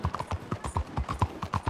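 Horse hooves gallop in Red Dead Redemption 2, a fast, steady run of close, crisp thuds on the ground with a regular rolling rhythm and no talk.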